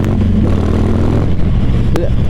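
A Harley-Davidson motorcycle fitted with a high-performance easy shifter clutch system rumbles steadily up close, its engine note holding loud and even as gears are changed, with a brief clunk near the end.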